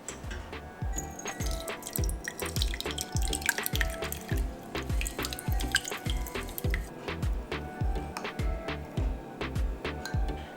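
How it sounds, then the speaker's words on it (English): Homemade Chinese chili oil pours into a clean jar, making a steady, rhythmic patter of close drips and trickles with no talking. "I've got a clean jar here, and I'm just going to pour the chili oil in there"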